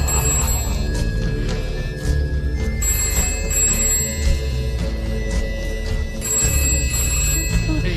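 Telephone ringing in a film scene: a high electronic ring tone sounds in repeated bursts over a loud, busy background of music and rumbling noise.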